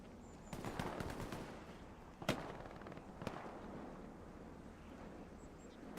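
Scattered gunfire in the World War II shooter Hell Let Loose, set in the El Alamein valley during a 49-versus-49 match, with bursts and sharp cracks, including MG42 machine guns, ringing out over a steady battlefield rumble. Two distinct loud shots stand out.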